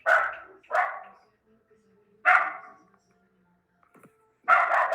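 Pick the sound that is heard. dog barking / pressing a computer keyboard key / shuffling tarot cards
dog barking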